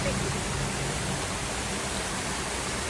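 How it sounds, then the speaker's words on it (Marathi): A waterfall roars as a broad, steady, dense rush of falling water that fills the whole three seconds at an even loudness, with a voice faintly mixed in beneath the noise. "तर काय हा बघा धबधबा."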